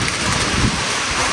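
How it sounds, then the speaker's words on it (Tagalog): Strong wind blasts across the microphone, a loud continuous roar with low buffeting rumbles throughout the brief moment. "Grabe yung hangin."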